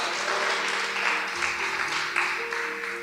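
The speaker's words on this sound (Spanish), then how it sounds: "¡Ah! ¿Cuántos están aquí? Denle el aplauso." A church congregation claps and cheers steadily for three seconds, a dense wash of hands with a few voices rising now and then, filling a reverberant room.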